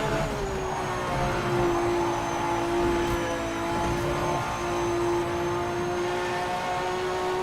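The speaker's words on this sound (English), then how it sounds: "Not the best sounding Valkyrie" Aston Martin Valkyrie engine in Project Motor Racing, a steady sustained drone at near-constant pitch holding loud and close throughout, with a hazy whirring layer over it and no voices.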